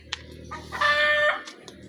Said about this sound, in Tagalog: Putak ng sunoy.